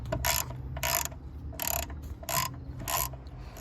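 A 10mm ratchet loosening bolts on a 2004 Subaru Impreza 2.5 TS: five short, crisp bursts of clicking at a steady rhythm, close up, with a faint background hum between strokes.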